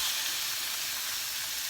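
Beef sizzling hard in hot oil in a pan, seared toward medium rare before going into a stew pot; a loud, steady, close frying hiss holds without a break and no one speaks.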